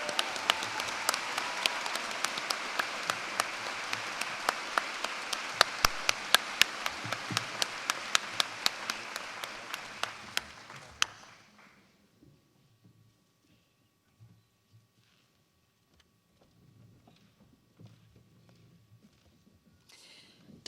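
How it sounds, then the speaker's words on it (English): Audience applause at a university graduation ceremony, a dense wash of many hands clapping at close-to-moderate distance for about eleven seconds, then cutting off abruptly into near silence with faint room noise. "Big round of applause for Dr. Maeve Kaur today."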